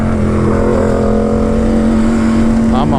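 A Royal Enfield GT 650 Continental motorcycle ridden hard, its engine holding a loud, steady drone throughout with no pauses, close to the listener.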